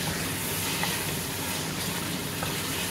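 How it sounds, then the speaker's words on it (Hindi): Chicken browning in hot oil in a pan for khair chicken, a steady close sizzle and frying hiss running continuously without pause. "ये भी हमारा चिकन अभी ब्राउन हो रहा है"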